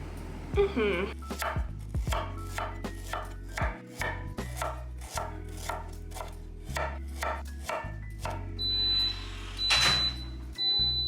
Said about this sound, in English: And I'm gonna cut these up and add them to the bowl as well.